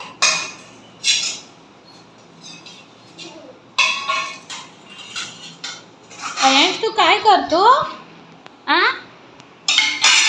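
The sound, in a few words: child playing with pots and utensils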